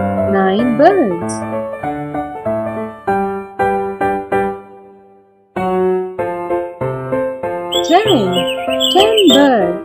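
Cartoonish bird chirps and tweets rise and fall in quick, loud repeated calls over a bright children's counting song with sung voices and music.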